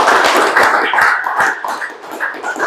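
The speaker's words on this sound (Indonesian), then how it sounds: "Tepuk tangan untuk saya." Applause from the audience at a basic leadership training class, a steady patter of clapping hands running throughout, fairly close and without a break.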